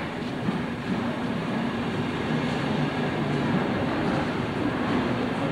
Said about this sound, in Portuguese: O trem está chegando aqui, olha.